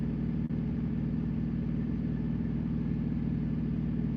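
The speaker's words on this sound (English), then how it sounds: "It's a truck." A truck engine idles steadily in Bethlehem, Pennsylvania, giving a continuous low, rumbling drone that stays even throughout with no voices over it.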